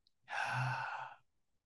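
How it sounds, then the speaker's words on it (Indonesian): One deep breath is drawn in during a church service, a single soft, close breath lasting about a second with silence on either side. "dengan kita menarik nafas kita"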